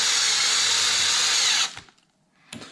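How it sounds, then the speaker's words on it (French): A power drill driving screws into a ski touring binding, a loud, close, steady high whir that stops abruptly, followed by a short quiet gap and a brief second burst. "Voilà, et je viens visser."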